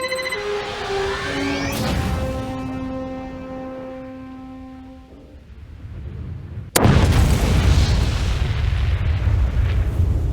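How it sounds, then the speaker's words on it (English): A nuclear bomb dropped on a city in the video game Spore starts with a rising, whistling musical tone that fades before a sudden loud explosion. A sustained roaring rumble follows. "I hired my best scientist to develop a nuclear bomb and used it on another city"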